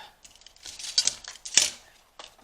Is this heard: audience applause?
no